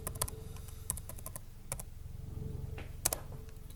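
Keys clatter on a computer keyboard as a search term is typed, a run of close, crisp clicks in uneven bursts with a brief pause before a final cluster of sharper strokes.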